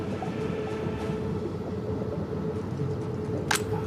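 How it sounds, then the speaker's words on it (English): Trains rumble steadily in the Soviet Republic city-building game Workers & Resources, a low continuous rail drone with a brief sharp click near the end. "There's trains coming in here."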